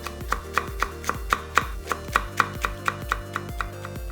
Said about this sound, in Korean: 매운 청양고추 2개는 쫑쫑 슬라이스